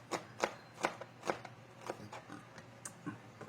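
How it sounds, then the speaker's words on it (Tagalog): A knife chops an onion for adobong galunggong, a steady series of about a dozen crisp, quick strokes against a cutting board, fairly quiet and close with no talk. "Yan, inihiwa na ni Chef Boy ang sibuyas."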